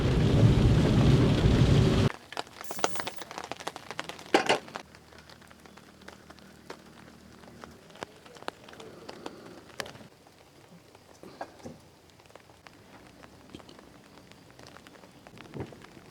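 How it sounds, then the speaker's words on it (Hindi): Rain falls in the open during a camping trip. A loud, steady downpour with a rumble of thunder at first gives way to quieter scattered patter and drips, with no talk. "क्योंकि बारिश पड़ रही है"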